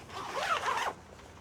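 A screen on a SylvanSport GO camper trailer tent is zipped in one steady, close rasping pull lasting under a second, followed by quiet.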